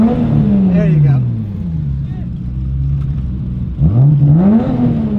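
A 1000-horsepower Chevrolet Corvette Z06 engine revs loudly up close, its pitch sweeping up and down and surging again near the end, with a constant roar underneath.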